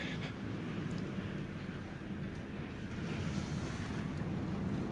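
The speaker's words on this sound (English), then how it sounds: "the raging ocean" Raging ocean waves in the Bahamas in the aftermath of Hurricane Dorian make a continuous, dense roar of surf mixed with gusting wind buffeting the microphone, with no voices.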